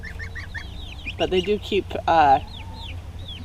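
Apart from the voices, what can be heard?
goslings making short low-pitched honking sounds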